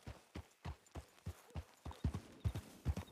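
Horse hooves clip-clopping in Frieda's Wild West Adventure as a horse is ridden uphill, a steady rhythmic trot of soft, fairly quiet hoofbeats, slightly quickening and stronger toward the end.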